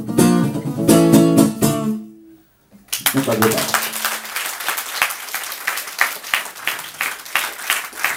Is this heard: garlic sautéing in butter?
no